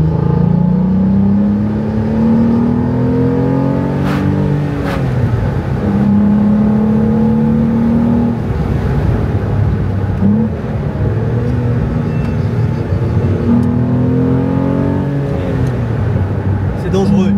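Renault Clio V6 engine revs up and down in waves, loud and close throughout, with someone talking over it.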